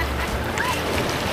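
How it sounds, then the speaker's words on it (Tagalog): Strong ocean waves wash onto a beach in a continuous rushing roar of surf, with wind buffeting the microphone throughout. "malakas na pala yung alon dito."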